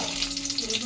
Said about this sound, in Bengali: এরপর আলুগুলো দিয়ে আমরা ভেজে নেব।